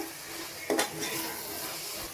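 Tomato masala sizzles steadily in hot oil in a pan, with a brief scrape of a spoon stirring it partway through.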